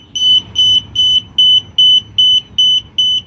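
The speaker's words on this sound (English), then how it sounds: "What is wrong with this thing? Why are you beeping?" A DJI Spark drone beeping, eight loud, evenly spaced identical tones in a regular rhythm, close and clear with nothing else over them.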